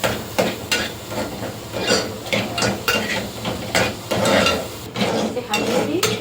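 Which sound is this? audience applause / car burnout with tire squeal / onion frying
onion frying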